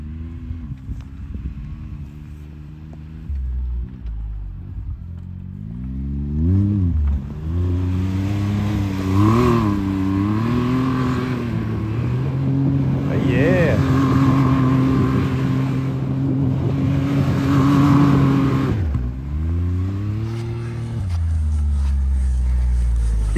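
Can-Am Maverick side-by-side driving through snow after a snowstorm, its engine revving up and down in several loud surges, then holding a steady drone before easing off and revving again, close by.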